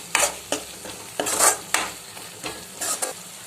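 Spice powders for egg kulambu are sautéed in a pan over low heat. A soft sizzle runs under about seven bursts of scraping stirring that come at fairly regular intervals, close and moderately loud.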